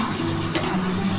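Egg curry with spices and ground coriander leaves being stirred and fried in a pan, a steady close sizzle with soft scraping throughout the short stretch, no voices.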